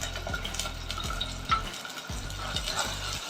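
Onion and green chillies sautéed for pepper mutton masala, a steady frying sizzle under repeated scraping stirs of a spoon against the pan, close and clear with no talking.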